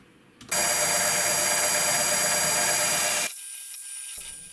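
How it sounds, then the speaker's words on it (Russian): A loud, steady mechanical whine of a drill boring a through hole in a metal reed valve housing, starting abruptly and running for about three seconds before cutting out to a quieter hum. "Сверлю сквозное отверстие для входа фрез"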